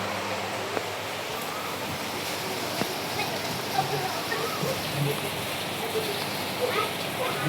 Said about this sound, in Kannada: ಅದು ಜೋರು ಮಳೆ ಬರ್ತಾ ಉಂಟು